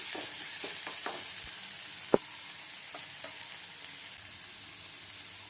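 Small-cut onions and garlic fry in a pan for a garlic chicken masala, a soft, steady close sizzle with a few light clicks and one sharp tap of a utensil, no talking.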